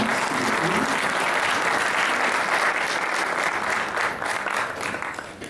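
Audience at a conference lecture breaking into sustained applause, a dense wash of many hands that holds steady and then begins to thin toward the end.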